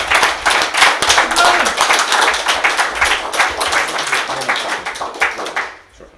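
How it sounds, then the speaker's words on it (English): A crowd claps and applauds for a guest speaker at a recovery testimony gathering, brisk close-up hand claps in a steady dense stream that thins and fades near the end. "can we give him a round of applause?"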